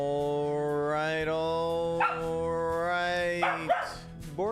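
A wet pup vocalizes in a drawn-out, harmonic run of whining yips and short barks across several seconds, fairly close and moderately loud with no talk over it.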